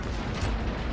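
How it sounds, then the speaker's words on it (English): Enemy warship blowing apart after two torpedo hits in World of Warships, a dense, rumbling blast that roars steadily for about a second. "the enemy took 2 torpedoes and 2 flaws and got blown to pieces"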